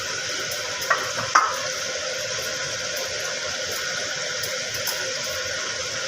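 Prawns frying in hot oil in a covered pan give a steady, even sizzle throughout, with a couple of brief clinks of utensils near the start and no talk.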